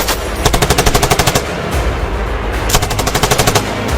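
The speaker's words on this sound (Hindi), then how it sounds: "गोलियां चला रहे हैं।" Bursts of rapid automatic gunfire rattle out in quick rhythmic volleys, loud and sharp, separated by a short pause, during an attack on a Pakistani army convoy in Balochistan.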